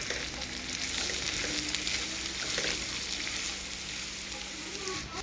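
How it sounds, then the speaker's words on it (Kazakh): Meat sizzles and fries in a pan as a Kazakh vermicelli dish is prepared, a steady close hiss with occasional stirring scrapes running throughout, no talking. "Енді мынаның барлығын салып бірден қуырып жіберемін қазір."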